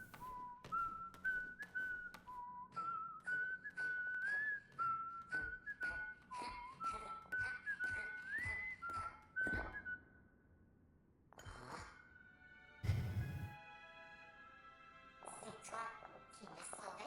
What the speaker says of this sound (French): il siffle maintenant